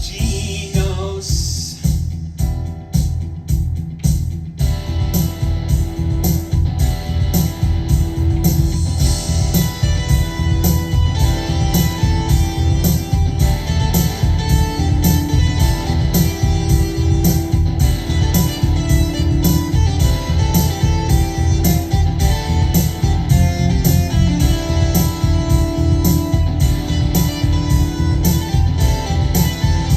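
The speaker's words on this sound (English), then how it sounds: "It's the sound of the GENOS." A Yamaha Genos keyboard plays a parody, a loud full arrangement with punchy driving drums, bass and chords that pulses steadily throughout.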